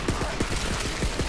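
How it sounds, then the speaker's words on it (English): A fast, even burst of automatic gunfire in the Borderlands 3 video game, about a dozen loud shots in quick rhythm over a dense background. "I'm getting a target, but this time I'm gonna fucking shoot."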